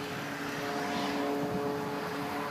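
Propeller airplane flying over a backyard during an air show, a faint, steady distant drone with a low hum and wind-like hiss throughout.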